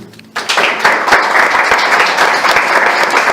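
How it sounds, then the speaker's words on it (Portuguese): A church congregation bursts into loud, dense applause during a sermon, starting abruptly after a brief quiet moment and holding steady as a continuous roar of many hands. "Aplaude Ele."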